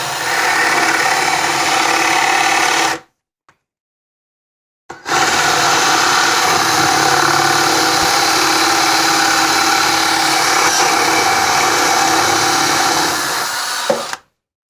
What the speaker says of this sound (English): I'm going to drill with a Forstner bit, a little countersink, to accept a washer and a nut